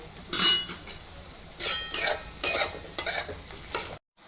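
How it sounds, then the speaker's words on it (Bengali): Chopped onions and green chillies fry in oil in a pan, a low sizzle punctuated by about six bursts of spatula scraping and clinking against the pan, close and loud, ending in sudden silence. "পেঁয়াজ আর লঙ্কাটা ভালো করে ভাজা হয়ে গেছে।"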